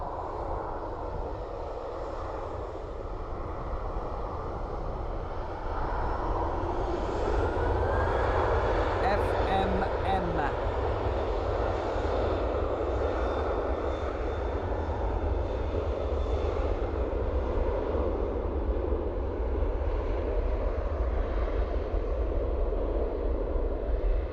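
A Ryanair jet departs Dublin Airport, its broad engine roar building from about six seconds and holding steady and loud to the end, with a faint whine above, under ambient outdoor noise.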